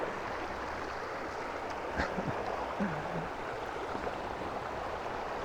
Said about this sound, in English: So here's a beautiful Carmel River.